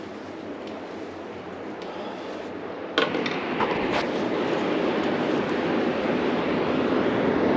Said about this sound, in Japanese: 部屋に帰って窓を開けると波の音が聞こえます。